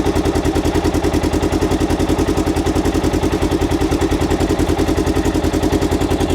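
A Polaris Xpedition UTV idles steadily on its OEM stock exhaust just after startup, close and loud, with an even, rapid throbbing pulse and a mechanical clatter throughout, and no voices.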